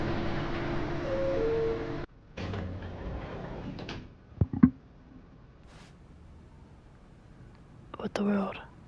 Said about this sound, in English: Who opened these doors?